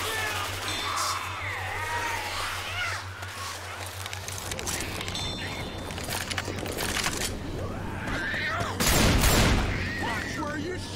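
Gunfire from a Left 4 Dead 2 co-op zombie shooter match: scattered shots and rattling bursts under game voices and cawing calls, with a steady low hum and a heavy volley of blasts near the end.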